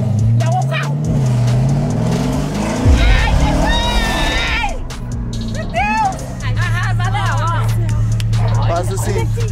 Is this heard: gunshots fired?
no